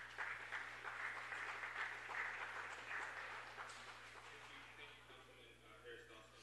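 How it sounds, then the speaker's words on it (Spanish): A crowd at a city council meeting applauds steadily, the clapping gradually fading out over several seconds. "Un aplauso."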